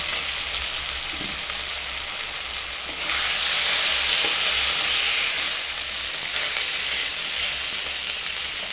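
Ground green chili paste and other ingredients are poured into a hot frying pan for a pointed gourd dish. Steady sizzling jumps sharply louder partway through as the ingredients hit the oil, then keeps up as a loud, continuous hiss.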